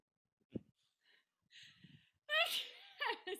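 A quiet, close sneeze with a sharp intake and burst of breath, then people start talking right after it.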